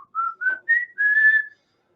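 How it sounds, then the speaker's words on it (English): A person whistles a short, familiar fast-food advertising jingle alone: four clear rising notes, the last one held longest, close and moderately loud. "If I were to whistle"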